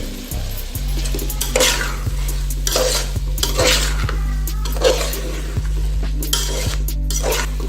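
Cooked rice and vegetables for veg biryani stirred in a pan, repeated scraping and clinking strokes of a spoon on metal over a steady low hum.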